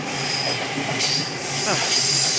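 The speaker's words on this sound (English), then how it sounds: "loud ass train" A loud train passes on a Tokyo street walk, its rumble and squealing steel wheels hissing and rising steadily with no pause, with no speech over it.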